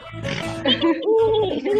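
A human voice imitates a horse snorting, producing a loud, close, breathy and voiced snort-like sound with a nasal, pitched quality over about two seconds.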